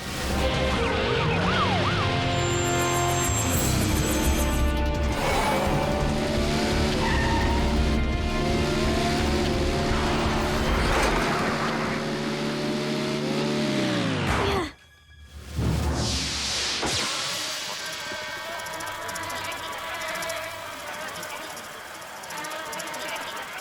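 A cartoon go-kart skids and revs with siren-like engine whines and a brief whooshing skid, loud and busy throughout, with a short sudden drop in the middle before noise resumes.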